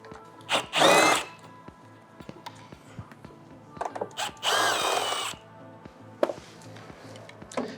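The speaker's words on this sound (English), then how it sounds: "now I'm going to use a 10mm socket to remove these two fasteners" A power tool fitted with a 10mm socket removes fasteners during headlight assembly removal on an RX1E. It gives two short, loud whirring bursts close by, with clicks and handling knocks between them.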